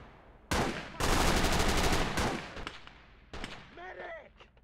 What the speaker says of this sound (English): Is that a machine gun there? It was a really low placed machine gun.